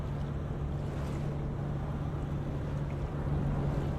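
Low, steady ship engine hum under a wash of water and wind noise in the Ship Simulator video game, a constant droning tone with no speech.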